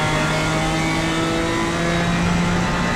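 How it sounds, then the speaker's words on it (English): BMW GT4 race cars dueling at Donington, engines droning loudly and steadily at high revs with no break, the tone rising slightly as they accelerate. "Battle here, Merchant and Jeremy, two BMWs"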